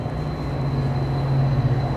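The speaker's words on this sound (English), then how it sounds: "train is going on behind me." A train rumbles past in the background, a steady low drone with a faint high whine, continuous and moderately loud throughout.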